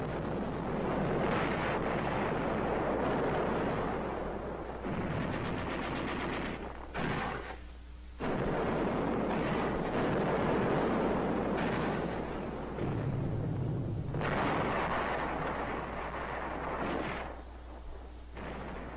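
Rifle, machine gun, mortar and artillery fire in a WWII battle on the southern peninsula of Tinian: sustained loud machine-gun bursts layered with heavy booms and rumbling blasts, broken by a few brief lulls.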